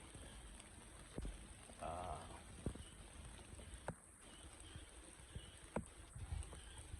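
Rain falls steadily on the Yellow Trail at Camp John Hay in a forest setting, a faint, constant patter with scattered louder drips and light knocks, and no voices.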